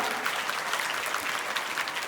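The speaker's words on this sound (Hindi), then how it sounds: "तालियां बजाएं एक बार जोरदार" Vigorous applause from an audience at a 15 August Independence Day school event after a young girl's speech, a dense, even wash of many hands clapping for about two seconds.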